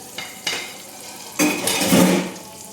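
A spoon mixes fried eggplant into yogurt in a bowl, giving soft wet scraping and squelching strokes close by, with a few light clinks; no talking.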